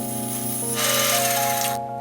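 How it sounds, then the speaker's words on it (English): A bandsaw cutting an aluminium table rail for a Renault Trafic campervan table, a loud steady mechanical whine with a buzzing rattle, rising in intensity midway as the blade bites, then easing off. "Because it's alley, we can do it on the bandsaw"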